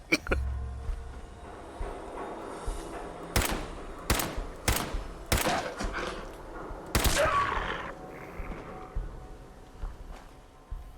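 Gunfire in the game Fallout 4 sounds as a series of sharp, loud single shots, roughly six cracks spaced about a second apart near the middle, over a low game background with a brief voice.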